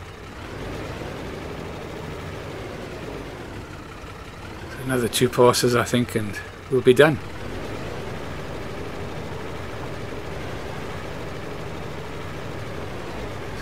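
Tractor engine in Farming Simulator 22, heard from a first-person cab view during a vintage-series contracting session: a steady low idle-like drone runs throughout, with someone talking over it in the middle.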